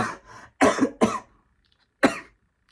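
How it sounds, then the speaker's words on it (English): A few short, sharp coughs close to the microphone, three bursts in quick succession, then a pause and one more cough. "I just coughed again"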